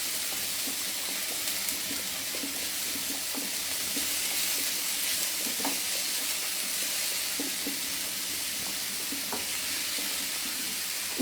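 Food sizzles and fries steadily in a pan as a home-style dish cooks, with faint stirring clicks and scrapes scattered through a constant hiss, no talking.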